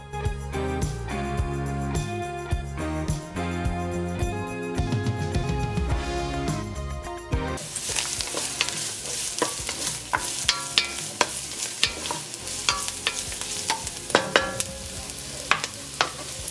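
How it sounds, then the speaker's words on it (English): Chopped onion frying in oil in a pot: music plays for the first half, then gives way to dense crackling and sizzling broken by sharp spoon clinks and scrapes, up close. "I'm adding some oil to the pot along with some chopped onion."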